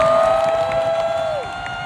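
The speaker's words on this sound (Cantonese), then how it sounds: "請大家俾最熱烈嘅掌聲佢哋啦" Concert audience at a final show cheering and applauding, a loud sustained crowd roar with clapping, and a steady tone running beneath that fades out near the end.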